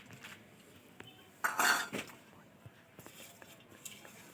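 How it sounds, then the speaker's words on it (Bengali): Fried sago and peanuts being mixed in a bowl with a utensil, a quiet scraping and clinking that peaks in a brief burst of louder metallic clatter midway, then fades to faint intermittent taps. "দেখো সাবুটার সঙ্গে এগুলো মিক্সড করবো।"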